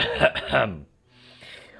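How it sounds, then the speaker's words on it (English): A male video game character in Genshin Impact clears his throat with a rough, loud, raspy vocal burst that fades into a quieter murmur, heard close and alone. "Clear his throat."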